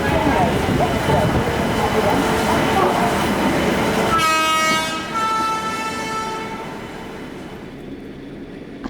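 A Mumbai to Chennai express passenger train rumbles loudly past, then a long train horn sounds and slowly fades as the rail noise drops away, with no one talking over it.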